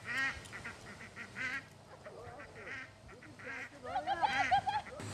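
A female duck quacks close by in a string of nasal calls, starting in short bursts and building into a louder, rapid run of quacks near the end, with low background rumble.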